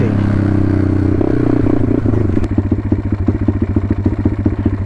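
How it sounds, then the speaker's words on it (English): Pit bike engine revving through a gear change, a steady mid-pitched drone that shifts into rapid pulsing rev bursts halfway through, loud and close with no talk. "Just get the revs up a bit, back off the revs"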